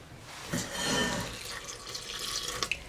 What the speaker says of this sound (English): So, I'm now going to tip in the water